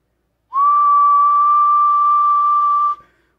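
A single steady, pure whistle tone comes over a Cobra 29LTD Classic CB radio, holding one pitch for about two seconds before cutting off abruptly.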